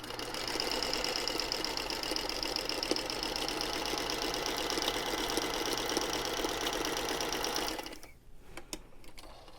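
A 1956 Singer Featherweight sewing machine stitches a diagonal line on quilt fabric, a fast steady mechanical whir and rattle running for about eight seconds before stopping, followed by faint handling noises.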